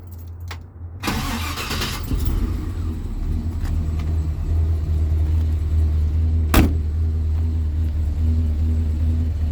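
A 1955 Chevrolet Bel Air's engine cranks briefly, catches and settles into a loud, steady low rumbling idle that continues to the end.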